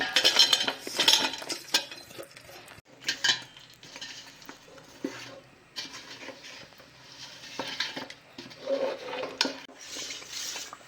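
A spoon stirs and scrapes through jaggery and ghee in a metal pan, making irregular clinks and scraping swishes up close, with occasional brief pauses between strokes.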